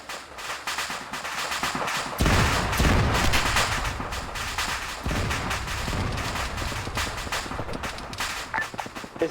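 Sustained machine gun fire in the Arma 3 military shooter, dense rapid bursts of gunfire that start sharply and run loud and continuous for several seconds, with heavy booming reports mixed in.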